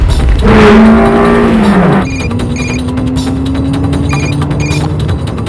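A car speeding along with a bomb underneath, tires squealing loudly in a long skid that bends downward, then a steady engine tone carries on under the action.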